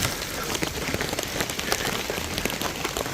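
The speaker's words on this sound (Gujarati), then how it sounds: "કરા જેવડા છાંટા પડે" Heavy rain with large, hail-sized drops pours down in a village, a dense, steady roar of pattering that stays loud and unbroken throughout, with no voices.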